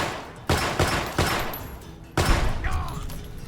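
Gunfire in the video game Fallout: New Vegas, three or four sharp, loud shots spaced roughly a second apart, each with a booming tail, the last followed by a brief rising tone.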